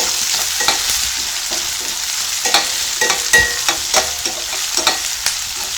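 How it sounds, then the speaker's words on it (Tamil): Onion, green chilli, ginger and curry leaves sauté in a pan for bread upma. A steady, loud sizzle runs throughout, with scattered clicks and scrapes as a spoon stirs. "பச்சை மிளகாய், இஞ்சி, கருவேப்பிலை இதெல்லாம் சேர்த்து நல்லா வதக்கிடலாம்."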